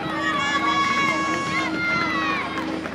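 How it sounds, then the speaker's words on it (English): Spectators on Middle Walk cheer runners crossing the finish line of the Blackpool 10k, a steady, dense crowd roar with shouts running the whole time under an announcer's voice. "It's so important to keep this noise going down here on Middle Walk as people come over the finishing line."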